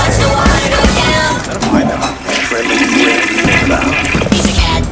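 Toilet flush in a children's song: loud, sustained rushing and gurgling of draining water lasting several seconds, close and prominent with music and vocals underneath.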